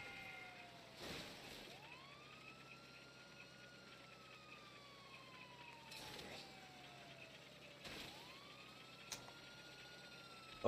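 Video game emergency sirens wail at moderate distance, sweeping slowly down and then sharply back up several times over a low, steady engine hum.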